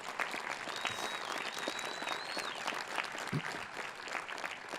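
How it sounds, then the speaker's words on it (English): A large audience at a Marist College commencement claps steadily throughout, a dense, sustained roar of applause with a few faint whistles mixed in. "Let's have a round of applause for them as well."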